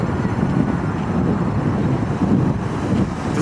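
Strong wind buffets the microphone by a lake in Flushing Meadows Park, New York City, a loud continuous rushing roar with gusty swells and no talk heard.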